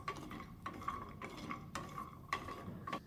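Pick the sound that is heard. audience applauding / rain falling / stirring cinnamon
stirring cinnamon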